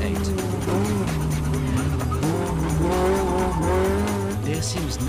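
A Porsche 906 race car with a 2-liter engine chases an Alpine A110 with a Gordini 1.8 engine, both engines loud and close, rising and falling in pitch through gear changes as they race nose to tail.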